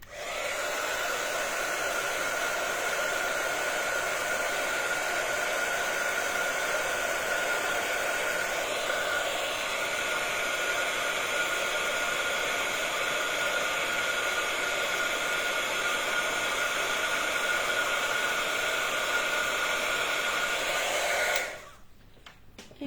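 Heat tool blowing hot air over a handmade Christmas ornament card, a steady loud whooshing drone that runs continuously up close for about twenty seconds before switching off near the end.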